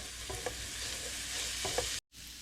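Garlic, onions, sausage and soy stir-fried for a ground pork dish, a constant sizzle with a few soft spatula scrapes, cut off briefly near the end.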